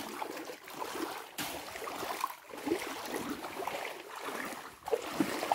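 Water rushes and splashes continuously, like a strong flowing creek, with gusty swells and bursts of noise close to the microphone.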